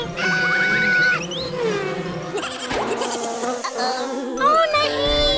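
Cartoon flies buzz in a children's animated story, their whining hum weaving through bright music and sound effects, loud and close throughout.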